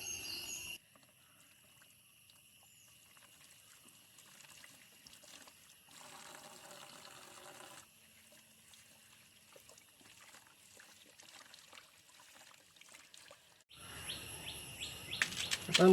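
Fresh taro leaves and stalks are washed under running water, a faint trickle that swells briefly mid-way and grows louder near the end, with birds chirping softly outdoors in the background.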